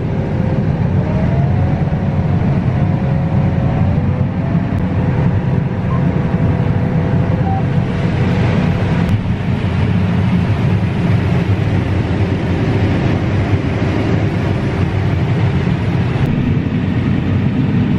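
A combine harvester's engine revs up while it unloads grain standing still, a loud, continuous, close diesel roar with a rising whine early on that settles into a steady drone.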